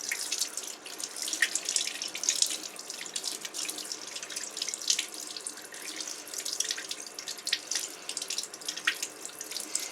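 Tap water runs continuously into a sink while a makeup brush is rinsed after a shampoo cleaning, a close, steady hiss of splashing water with small fluctuations and no voices.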